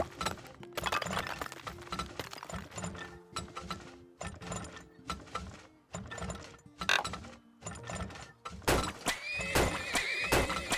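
Horses neighing and whinnying in the video game Turmoil, several calls set among clicking, ratcheting gear and pulley mechanisms, with a louder burst of clatter near the end.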